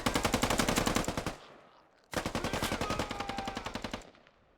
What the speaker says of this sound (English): We're seeing some firefights over here again.